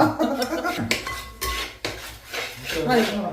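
A spoon stirs tomato curry in a metal uruli pot, making close, continuous scraping and clinking of metal on metal with a few sharper knocks.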